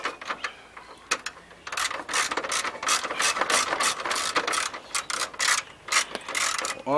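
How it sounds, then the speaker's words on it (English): A 10mm socket on a long ratchet wrench tightens a headlight bolt on a Hyundai Accent, producing rapid clicking bursts in repeated close strokes separated by short pauses. "You're gonna need a 10mm socket with a long wrench."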